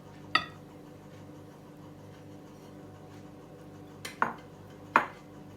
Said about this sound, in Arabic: زي ما انا بالمعلقه كده عادي بقلب واجيب من تحت لفوق